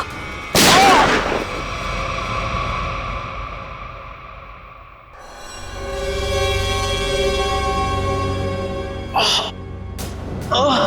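A single loud gunshot cracks out near the start of a TV crime drama scene, followed by a lingering ringing tone and a few sharper bangs later on.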